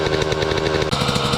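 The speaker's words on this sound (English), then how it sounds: "I apologize for the noise of the pump jack." A steady, rhythmic mechanical chugging from an oil pump jack engine running close by, a loud repetitive thumping pulse with no talking.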